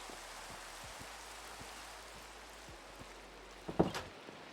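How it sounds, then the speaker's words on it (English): Continuous Minecraft rainfall makes a constant soft hiss with faint drop ticks, and a brief, louder crackling burst comes near the end. "God, it's still raining."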